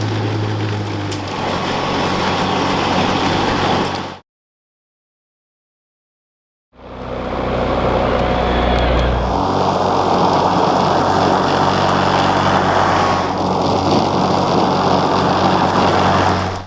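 Kobalt 40V battery lawn mower cutting wet grass, a steady loud close whir that drops out for a couple of seconds, then resumes with shifting load as it chews through the grass without bogging.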